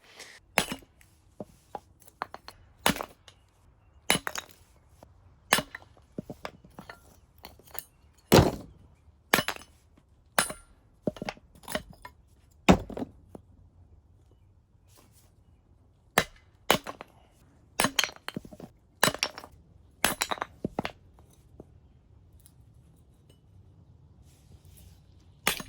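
A froe splits small pieces of firewood, giving sharp, irregular cracks and clinks scattered across the stretch, some close and loud, others lighter, with quiet gaps between.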